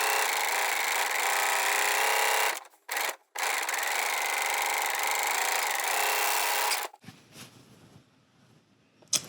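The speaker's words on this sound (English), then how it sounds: "I'm going to just go around all 4 pieces, just like this at the serger, so that they're seam finished" A serger runs in loud sustained bursts while finishing the seams on four pocket pieces, with a brief stop and restart before the motor cuts out and quieter handling sounds follow.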